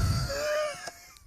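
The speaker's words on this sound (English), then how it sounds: "It was a loud yawn." A loud, drawn-out human yawn from a man in a sports talk studio, rising into a moaning, wheezy wail and tailing off within about a second, heard close and alone.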